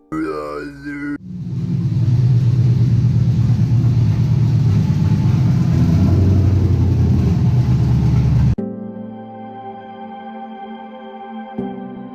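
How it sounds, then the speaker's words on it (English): A 2005 Cadillac CTS-V with a stock 5.7-liter engine and a failing Dodge front differential: a loud, coarse grinding rumble lasts about seven seconds, then drops to a steadier, quieter engine drone. "This is what the inside of a Dodge front differential looks like. When it exploded, it sounded kind of like this."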